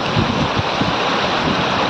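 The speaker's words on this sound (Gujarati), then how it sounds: "ફર્સ્ટ ક્લાસ ઝરણા પાણીના કરી રહ્યા છે ગિરમાળમાંથી" Hill streams near Sandhida Mahadev rush down from the Gir hills in a loud, close, unbroken roar of flowing water.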